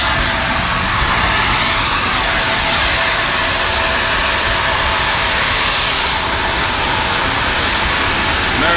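A small passenger plane's engine runs at LAX airport, producing a steady, loud, close broadband roar that holds unchanged from start to finish without pauses.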